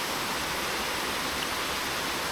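A waterfall rushes in a loud, steady broadband roar that fills the whole clip with no pauses and no voices over it.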